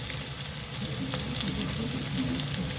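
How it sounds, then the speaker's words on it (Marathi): Garlic and onion frying in oil in a pan while cooking chukyachi bhaji, a steady close sizzle with faint clinks and no talking. "लसूण झालं की आपल्याला कांदा टाकायचा आहे"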